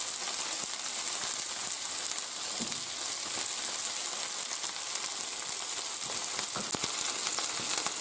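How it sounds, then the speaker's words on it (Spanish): Meat pieces for a Gandia-style fideuà sear in a hot pan, giving a loud, steady sizzling hiss with faint clicks as they are turned, close and without talk. "Se le da la vuelta para que se selle por todos los lados, pero no se tienen que freír mucho."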